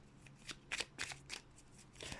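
Tarot cards shuffled and handled in a series of quick, soft papery riffles and flicks, fairly close and quiet, with no talking.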